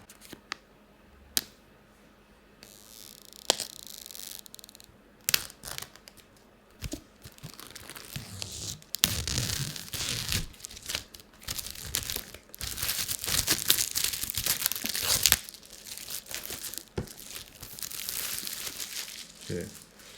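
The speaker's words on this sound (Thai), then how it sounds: "ก็จะดึงจากตรงนี้ได้เลย ไม่ต้องใช้คัตเตอร์เหมือนเดิมนะ" The tear strip on an iPad Air 5 box is pulled off with crinkling, tearing and rustling of cardboard and packaging, building up in scattered bursts while someone talks.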